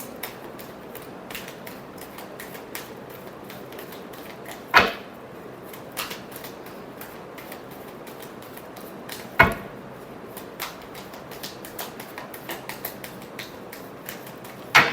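Tarot cards being shuffled by hand: a steady, dry crackling riffle with two sharper snaps partway through, close and fairly quiet, with no talking.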